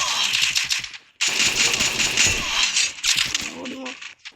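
Rapid bursts of automatic gunfire in the Free Fire video game, loud and close in three clusters with short gaps, while a player talks over the shooting.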